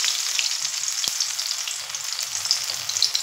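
Prawn paturi parcels fry in hot oil over a low flame, producing a steady, dense, close sizzle with a single sharp tap partway through and no talking.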